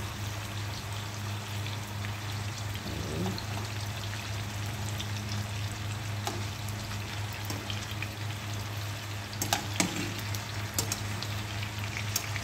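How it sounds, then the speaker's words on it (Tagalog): Kabab pieces and potato frying in a pan, a soft steady sizzle and crackle with occasional light pops, continuous and moderately quiet throughout. "Sandali lang ang pagprito ang gagawin natin dyan."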